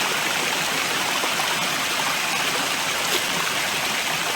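A natural mountain stream pours down a waterfall in a green valley, giving a steady, loud, broadband rush of water with no pauses.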